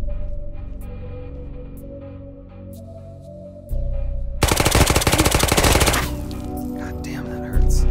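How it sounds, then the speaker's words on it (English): Sustained machine gun bursts in the VR shooter Ghosts of Tabor come as a long, dense rattle of rapid loud shots in the middle. A further burst follows at the end, after quieter game noise. "I'm shooting the stairs too, that's not helping."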